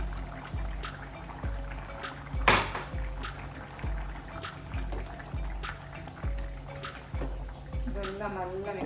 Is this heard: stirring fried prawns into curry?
yes